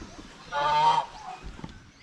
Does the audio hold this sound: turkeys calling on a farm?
yes